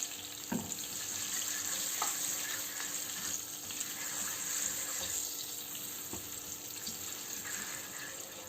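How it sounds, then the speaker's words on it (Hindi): Spices for a tomato and tamarind chutney fry gently in a pan, making a faint continuous hiss with a few soft clinks, and no one speaks. "इन सबको हम थोड़ा सा फ्राई करते हैं मसालों को।"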